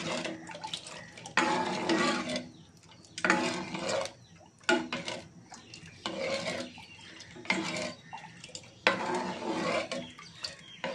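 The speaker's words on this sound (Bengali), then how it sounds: "যতক্ষণ না ঘন হয়ে আসছে ততক্ষণ এটাকে অনবরত নেড়ে জাল দিতে হবে।" A spoon stirs milk in a pot on the stove as it slowly thickens, giving repeated scraping, swishing strokes in a steady rhythm with short pauses between, close and moderately loud with no talk.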